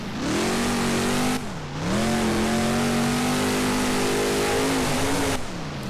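A monster truck engine in the BeamNG video game revs loud and steady while the truck spins a donut on beach sand, its pitch dipping and rising once before holding a sustained high roar.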